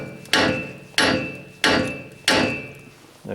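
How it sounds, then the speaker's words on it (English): A hammer strikes the steering knuckle of a 2003 GMC Sierra or Chevrolet Silverado to free the lower ball joint: four loud, ringing metallic blows at roughly even intervals, each decaying before the next, with a fifth starting at the end. "Just gonna hit this knuckle up here on both sides a bit more."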